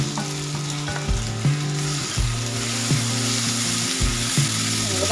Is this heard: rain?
no